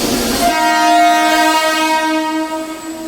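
A train at Panvel railway station sounds a loud, sustained horn blast lasting almost the entire moment, steady and close, over the rumble of the rail yard and fading slightly at the end.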